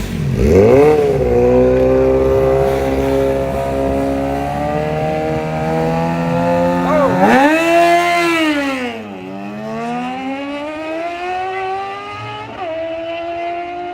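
Two sixth-generation street race cars accelerating hard, loud engines with rising revs and gear shifts, roaring close by and then a second burst of revving and passing before fading slightly into the distance.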